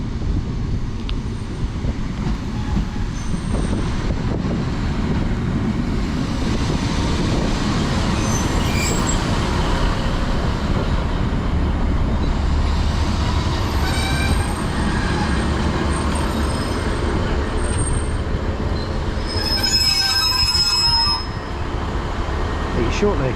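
A London Northwestern Railway Class 150 diesel unit arriving as a terminating service from Bedford rumbles loudly and continuously into the platform, with wind buffeting and faint wheel squeal late in the approach.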